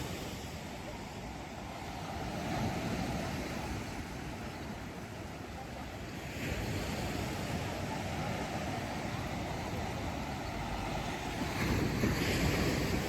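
Surf breaking on Baie Rouge beach in St Martin, a steady low wash of waves that swells in a few slow surges, mixed with wind buffeting the microphone.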